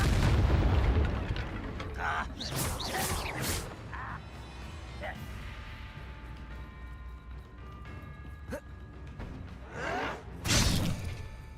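Booming Confringo fire-blast spells burst in Hogwarts Legacy, several loud explosive thuds and crackling blasts in quick succession, with a heavy rumble early on and another strong burst near the end, under a speaking voice.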